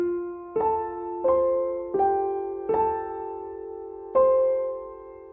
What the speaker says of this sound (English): Also the piano intro.